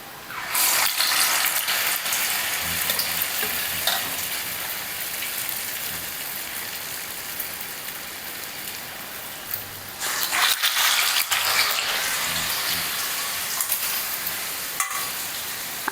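Batter for chillu garelu dropped into hot oil sizzles loudly and continuously up close, a thick crackling hiss that swells briefly as more is added, with a few faint clicks and no talking.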